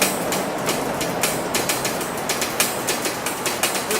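Freight train of boxcars rolling past up close, a loud steady rumble and hiss with a regular clickety-clack of wheels over rail joints, no voices.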